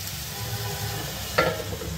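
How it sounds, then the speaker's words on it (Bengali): Ridge gourd being stirred with salt in a hot pan, a steady low sizzle with soft scraping and one sharper clink of the spoon partway through. "লবণ দিয়ে আরও একবার ভালো করে নাড়িয়ে নিলাম"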